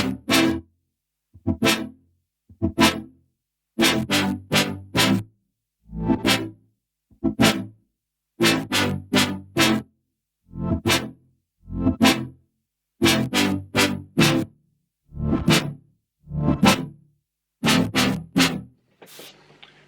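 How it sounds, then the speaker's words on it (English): A stack of several synth lead sounds layered together for an electronic dance track drop, playing a loud, punchy rhythmic phrase of short stabs and repeated chord hits that runs continuously before ending in a noisy tail. "Now this is a stack of a few different lead sounds."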